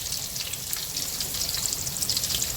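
Oil with green chillies sizzles and crackles steadily in a pan while tempering for Gujarati khaman, a continuous bright hiss with light popping throughout, no talking.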